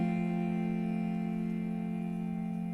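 A cello sample plugin sustaining a long forte note, a rich, steady bowed tone with strong harmonics, held evenly at full volume with no break.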